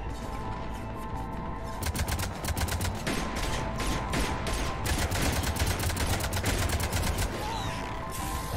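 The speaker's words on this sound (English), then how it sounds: "Cannons engaged." Cannons fire in the video game Mass Effect 3, a long, dense barrage of rapid, loud blasts that keeps up almost without a break after a short lead-in.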